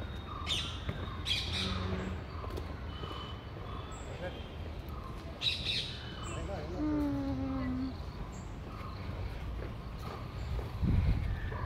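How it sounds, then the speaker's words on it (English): Outdoor evening ambience with scattered bird calls and harsh parrot squawks from a distant tree, with faint traffic rumble and occasional chirps in between. "there are a lot of parrots over there."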